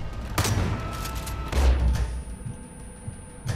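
Gunfire during a boss fight in Far Cry 5, several loud close bursts of shots with a booming hit in the middle and a final short volley, with no talking.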